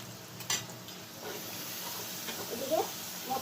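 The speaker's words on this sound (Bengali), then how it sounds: "তাই আমি একটু পেঁয়াজ ভেজে রাখছি।" Onions frying in a pan for aloo biryani, a faint, steady sizzle with a few soft clinks and stirring sounds scattered through it.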